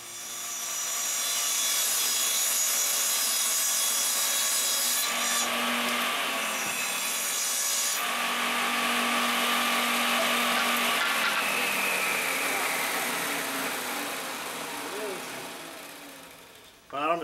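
Table saw cutting a wooden board to a 7-inch width against the fence for a weather station transmitter box, a steady loud whirring drone with the pitch shifting as the blade bites, then spinning down.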